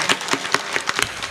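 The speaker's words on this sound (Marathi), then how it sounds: "जोरदार टाळ्या घेतल्या" An audience claps at a Marathi hari kirtan, a brief ragged round of applause with distinct individual claps rising and falling close by.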